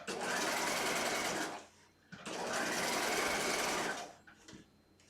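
A sewing machine stitching thin fabric such as organza, chiffon or taffeta buzzes loudly in two long runs with a short pause between, ending on a quieter tail.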